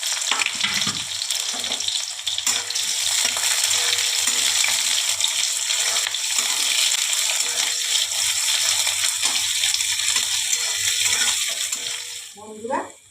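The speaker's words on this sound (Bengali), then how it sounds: "এবারে পেঁয়াজ কুচি দিয়ে দিলাম।" Chopped onion drops into hot oil with five-spice and whole cumin, setting off a loud, close, continuous sizzle that holds steady for several seconds before tapering off, with a brief clink near the end.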